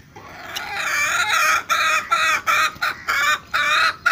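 Black chickens in a Pakistani village cluck loudly and close by in repeated rhythmic bursts, with brief gaps between calls.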